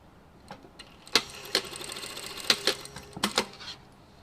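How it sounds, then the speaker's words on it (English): A sewing machine stitches a fabric seam at 1 centimetre for a French seam, heard as quiet, irregular bursts of short mechanical clicks and whirs with pauses between them. "now we're going to stitch this together at 1 centimetre"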